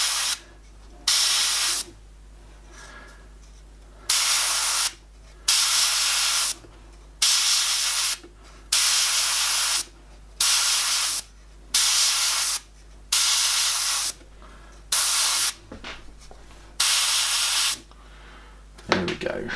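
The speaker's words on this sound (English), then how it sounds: "I'm going to lightly mist over all of it" Airbrush lightly misting paint over owl artwork, a repeated hissing spray in about a dozen short bursts of one to two seconds each, separated by brief pauses with a faint low hum underneath.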